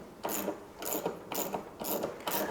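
A 1/2 inch ratchet loosens a bolt on a Toro Recycler Max lawn mower, clicking in five quick, close bursts of rapid pawl ratcheting with short pauses between strokes.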